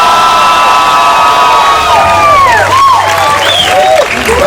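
An audience cheers, whoops and applauds for comedian Jeremiah at a stand-up comedy show, a loud, steady wash of crowd noise with shrill whistles and shouts rising above it.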